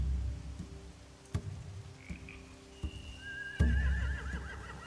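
Horses whinny in a rural setting at night, a drawn-out neigh rising clearly near the end after scattered thumps and low croaking, with no voices.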